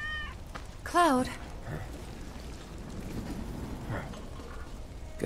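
Cat meowing in the video game Final Fantasy VII Remake, one clear rising-and-falling meow near the start over a low ambient backdrop, with a fainter cry a few seconds later.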